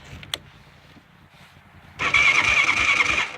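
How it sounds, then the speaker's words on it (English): Quiet background, then a 2000 Honda Recon ATV engine cranks on a dying battery with a strained, whining drone that holds steady for over a second without catching. "you can hear the battery starting to die"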